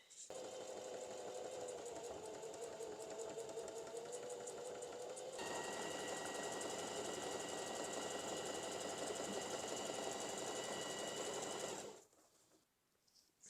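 Sewing machine stitching the hem of a pant leg, a steady fast mechanical whir that changes pitch midway, runs nearly continuously and stops abruptly near the end.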